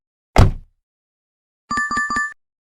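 A car door shuts with a single solid thump, followed after a silence by a short series of bright chimes.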